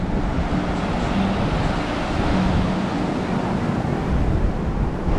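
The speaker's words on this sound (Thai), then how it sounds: "วันนี้คลื่นแรงหน่อย" Strong ocean waves wash onto a beach on Koh Samet, Rayong, Thailand in a continuous, rushing roar, with wind buffeting the microphone.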